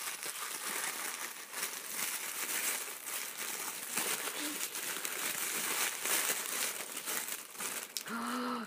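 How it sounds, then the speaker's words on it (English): Green tissue paper crinkles and rustles continuously as it is unwrapped, a dense close-up crackle lasting several seconds. "And it comes wrapped in pretty green tissue paper."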